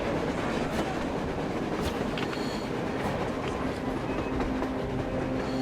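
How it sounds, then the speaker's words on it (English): Train in the Metro Exodus video game rolling along on the surface, a continuous rumbling clatter of wheels on track with faint metallic squeal, steady and moderately close throughout, with no speech. "A train! A damn train on the surface!"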